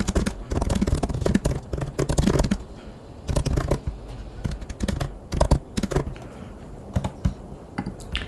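Fingers type feedback on a computer keyboard in quick, uneven bursts of close, crisp clacks, with short pauses between runs of keystrokes.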